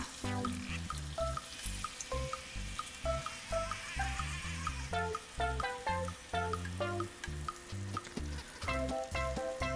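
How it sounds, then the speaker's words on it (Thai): Tofu deep-fries in hot oil until crisp and golden, giving a close, continuous sizzle and crackle, with intermittent pitched tones sounding over it in short bursts. "ทอดจนเต้าหู้ของเรากรอบแล้วก็สีเป็นสีเหลืองทองเรียบร้อยนะคะ"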